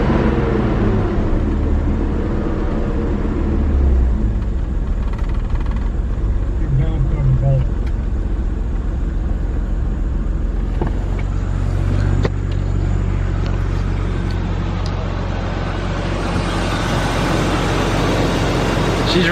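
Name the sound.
BMW E36 engine idling roughly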